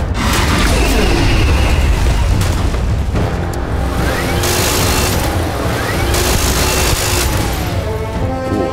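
Gunfire at an Albino Terrormorph in Starfield, a loud dense barrage of booming shots and bursts running throughout, close and continuous with no talk.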